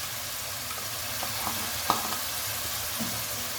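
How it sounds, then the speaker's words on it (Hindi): Browned onion paste frying in a pan for shahi kofta curry, a steady moderate sizzle throughout with a faint utensil tap midway. "इसको भी 1 से 2 मिनट तक हम लोगों ने इसको भूनना है"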